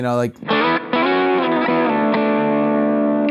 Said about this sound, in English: We're just trying to find the fourth interval and stack it with the original note.